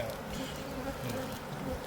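Honeybees hum inside a small split hive during a spring inspection, a steady close drone filling the clip.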